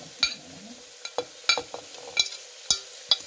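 Onion and cabbage frying for a Spanish omelette, with a low sizzle and sharp, sparse clinks of a utensil stirring against the pan at irregular intervals, close and fairly quiet.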